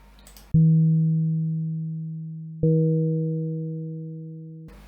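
A Heresy Radical synthesizer's coupled oscillators run freely, producing two steady, pure multi-harmonic tones struck in turn, each holding and slowly fading, alone with no talk.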